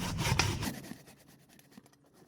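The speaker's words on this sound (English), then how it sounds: "Mila will demonstrate this grating." Tapioca root grated by hand on a rasp-style grater, a short burst of rough scraping strokes loudest at the start, then fading to quieter rubbing in a home kitchen.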